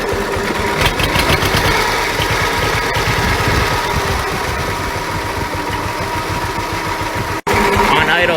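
A John Deere H tractor's restored engine chugs loud and close at a steady idle, a constant low rumble running throughout with a brief dropout near the end.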